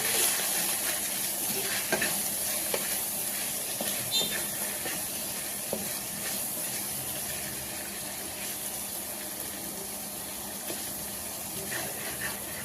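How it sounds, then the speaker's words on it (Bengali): Spices with a half spoon of coriander powder are stirred in a pan for pilau, giving a soft ongoing sizzle with scattered scraping clicks of the spoon, fairly quiet and without talk. "মশলা যাতে লেগে না যায় এজন্য আমরা একটু ঘন ঘন নেড়ে চেড়ে দেবো"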